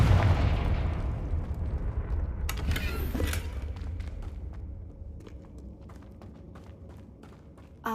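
Confringo fire spell blasting in Hogwarts Legacy, a loud booming explosion that rolls into a fading rumble, followed by sparse crackling debris pops and a brief sharp sound at the end.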